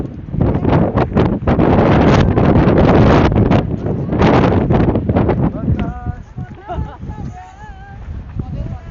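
Strong wind at Jomsom bazaar in Mustang buffets the microphone in loud, roaring gusts, easing toward the end as a voice speaks.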